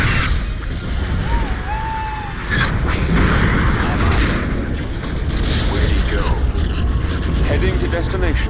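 Starship weapons fire and laser cannon blasts in the space strategy game Star Wars Empire at War, a dense, continuous roar of booming shots and whooshes with radio-style voices talking over the battle.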